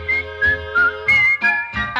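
Bright, clear whistling from a vintage Disney Three Little Pigs vinyl record plays a melody in short, evenly spaced phrases of about six notes, up close and with no voices.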